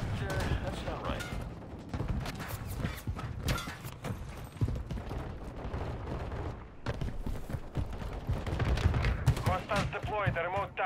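Gunfire in a Call of Duty MW3 Ground War match comes in dense bursts of rapid shots and mechanical clatter, loud and nearly continuous, with radio-style voice callouts mixed in.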